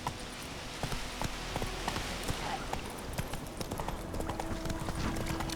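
Roach, a horse in The Witcher 3: Wild Hunt, galloping with rapid, steady clip-clop hoofbeats over a soft ambient game background, fairly close and continuous.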